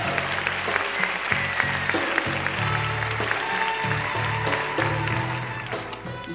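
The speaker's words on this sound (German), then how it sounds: "Applaus auch für euch, vielen Dank." Sustained audience applause at a 2018 film premiere, steady dense clapping from a large crowd with music or low tones running underneath throughout.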